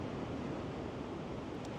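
Large ocean waves breaking along the Oregon coast produce a low, distant-sounding continuous roar, soft and steady with a hint of wind, no one speaking.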